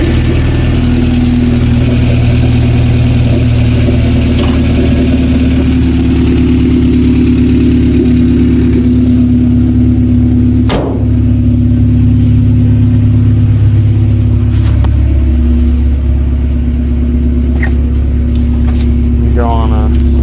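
A 1992 Honda Civic with an open header and no working exhaust idles loudly and continuously up close, a steady low rumble with a brief rev blip partway through.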